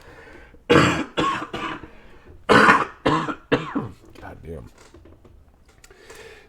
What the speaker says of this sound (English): Sorry, I had a little coughing fit there.